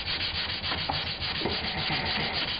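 A small wooden part being hand sanded with 320-grit sandpaper, a close, steady scratchy rubbing in quick back-and-forth strokes.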